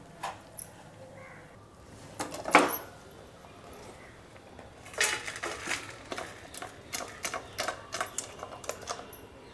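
Spoon scraping a sesame and jaggery mixture out of a pan onto a ghee-greased plate, with scattered clinks and a dense run of rapid metallic taps and scrapes, close and moderately loud.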